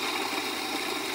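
A Rancilio Rocky coffee grinder runs after a full service and tune-up, giving a steady, continuous motor whir with a dense, even buzz throughout and no talk over it.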